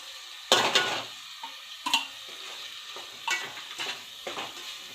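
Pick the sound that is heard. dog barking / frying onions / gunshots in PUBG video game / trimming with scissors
frying onions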